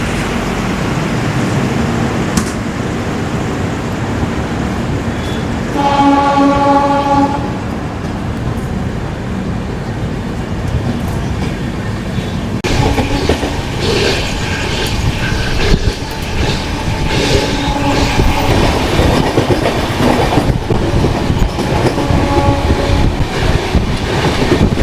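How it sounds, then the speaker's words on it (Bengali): Train pulling out of Santragachi station, a loud continuous rumble of rolling wagons with clickety-clack rhythm and brief whistle-like tonal squeals rising over it. "ট্রেন ছাড়লো সাঁতরাগাছি থেকে।"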